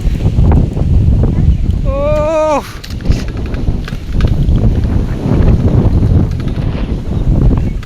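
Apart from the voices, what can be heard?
wind blowing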